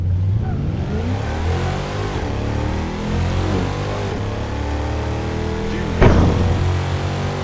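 Cars revving and accelerating at a drag racing event with performance models such as Mercedes E63 S, Audi RS6, BMW M3 and M4, Porsche GT2 RS and Ferrari F430; a continuous loud engine roar with a sharper burst near the end.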